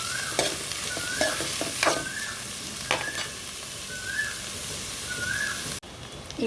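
Chopped small onions, curry leaves and green chillies frying in oil in a pan for a methi tomato curry, with a steady close sizzle and a few stirring clacks; faint bird whistles sound in the background, and the sound drops briefly near the end.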